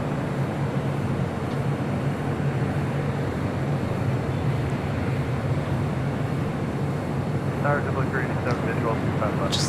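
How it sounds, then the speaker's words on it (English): A Hawaiian Airlines Airbus A330 departs LAX for Honolulu. Its engines give a continuous, fairly loud roar throughout, with a voice talking near the end. "This is Hawaiian A330 heading to Honolulu."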